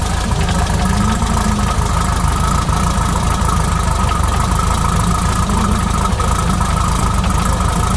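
A 1985 Renault 5 Turbo 2 engine idles steadily and loudly up close, a constant low rumble with no talk over it.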